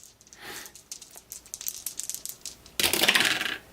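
Dice for a tabletop baseball game rattle and tumble in short clicky bursts, then a louder, denser clatter of a roll near the end; close and fairly quiet, with no talking.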